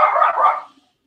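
A single dog's bark, loud and close, sounds briefly and then cuts to silence.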